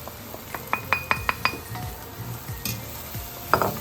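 Rendang ingredients stirred in a pan, a spoon scraping and clinking against the metal in a quick run of sharp knocks, then slower stirring over a soft sizzle, close and fairly quiet.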